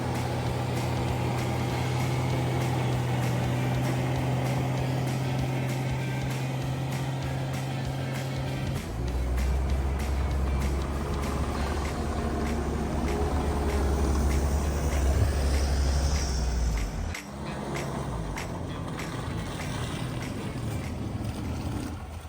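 A pickup truck in two-wheel drive, stuck in snow, with a loud steady engine roar and spinning tires throughout; the engine note shifts lower partway through and then eases slightly.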